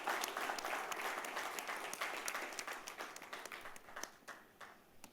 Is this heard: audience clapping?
yes